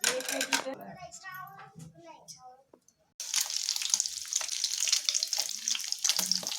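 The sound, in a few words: egg frying in pan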